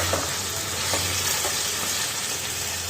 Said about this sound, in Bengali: এবার মাংসটা দিয়ে আর একটু কষিয়ে নেব। আলুটাও দিয়ে দেবো এর মধ্যে, দিয়ে এবার কষিয়ে নেবো ভালো করে।